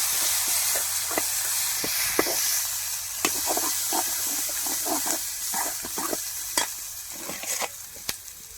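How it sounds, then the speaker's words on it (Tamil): Turmeric and chili powder sauté in oil for an egg curry, a steady close sizzle punctuated by irregular spatula scrapes and sharp clinks against the pan, with no voices. "கொஞ்சோண்டு மஞ்சள் பொடி கொஞ்சோண்டு மிளகா பொடி ரெண்டையும் போட்டு நல்லா வதக்கிடலாம்"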